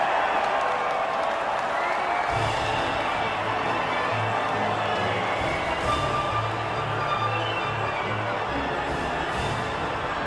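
F1 2019 video game podium scene with a crowd cheering and clapping in a steady, distant wash of noise, while a low voice talks over it.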